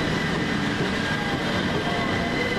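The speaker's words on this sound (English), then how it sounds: "Next train out, 377501 will lead away the 1729 Govia Thameslink service" A Class 377 Govia Thameslink electric train pulls out of Farringdon station, a loud steady rolling hum and rumble from nearby through the whole stretch.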